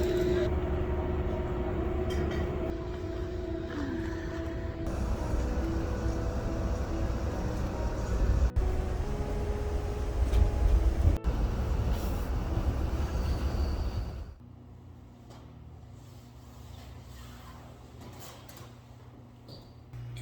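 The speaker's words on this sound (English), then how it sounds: "I'm about to get on the Amtrak train." Amtrak train passing on a cold day, giving a steady broad rumble with rattles and a couple of sharp clacks, then dropping to a quieter hum after about fourteen seconds.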